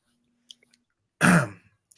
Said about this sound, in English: This cough sucks.